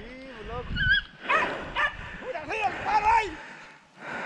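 Beagle hunting dogs bark and yip during a rabbit hunt with shotguns in Chile's Biobío region, sharp barks and whines scattered through the scene while people shout nearby.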